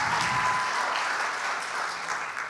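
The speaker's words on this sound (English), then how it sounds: "can we just clap for Lisa properly?" An audience claps steadily for Lisa at a Family Feast gathering, dense applause filling the room at a close, loud level and easing off slightly toward the end.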